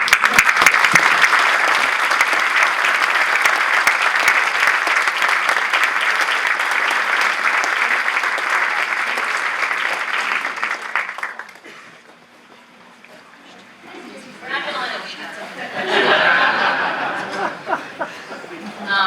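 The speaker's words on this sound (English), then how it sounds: "Another round of applause for" An auditorium audience at a talk on hate and antisemitism breaks into sustained applause with scattered laughter, which fades out after about eleven seconds, followed by a speaker's voice.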